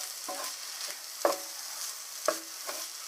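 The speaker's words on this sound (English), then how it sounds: "There's the ginger, and there's the lemon rind, and I'm going to fry it all up." Ginger and lemon rind frying in a pan, a faint steady sizzle broken by a few sharp scrapes and knocks of stirring, with no one talking.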